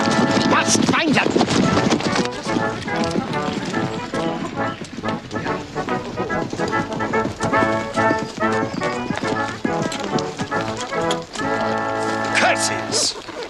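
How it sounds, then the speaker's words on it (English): Donkey and cart hooves clip-clopping in a steady, fairly loud rhythm along with rattling, continuing across the whole stretch alongside music. "That was their donkey and cart, sire."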